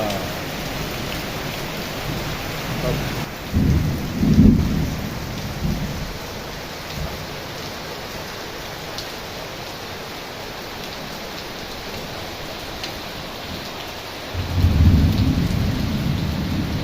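Heavy rain pours steadily with a dense hiss in a village in Odisha, and deep rumbles of thunder roll in twice, loud and close.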